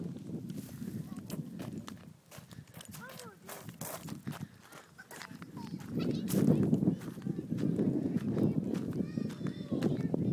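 Horses moving about at a family gathering with a tractor outing, hoof clip-clop scattered under frequent nearby talk and a voice, with a steadier rustling bed of activity building in the second half.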